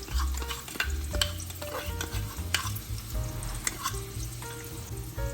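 Onion and crushed garlic frying in hot oil, sizzling up close while a utensil repeatedly knocks and scrapes the pan in an irregular stirring rhythm.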